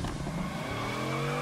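A Bugatti holding a brake stand in a car video game, a sustained tire squeal over a steady, loud engine whine with rising harmonic tones, continuous for over a second. No voices.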